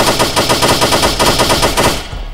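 Rapid automatic gunfire from a Woods Glock in a Bronx-set video game, a loud, close, continuous burst of evenly spaced shots that cuts off near the end.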